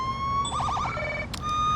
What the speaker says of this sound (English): activate your sirens